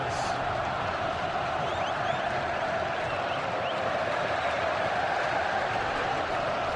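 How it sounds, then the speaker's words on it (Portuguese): Palmeiras supporters at the Morumbi stadium during a Corinthians versus Palmeiras match in the 2008 Campeonato Paulista, a dense, steady roar of a distant crowd that holds at an even level throughout. "sobe de novo o volume do Morumbi agora da torcida do Palmeiras"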